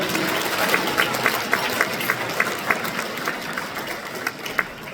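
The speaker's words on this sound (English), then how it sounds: "So, everybody give our keynote speaker another round of applause." Gala audience at a chamber of commerce dinner applauding the keynote speaker: steady, dense clapping from a large room, with rhythmic individual claps standing out over a continuous wash of crowd noise.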